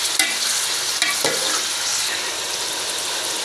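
Beef pieces sizzle and fry steadily in a hot pan for a savory salted meat dish, with a few sharp scrapes of a spoon stirring through the meat; loud, continuous and close, with no talking.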